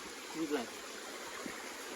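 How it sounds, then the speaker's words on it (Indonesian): A river stream on a mountain hike gives a steady, soft rushing hiss, with a brief faint voice murmuring over it. "Kita udah mulai dekat-dekat dengar suara sungai-sungai itu."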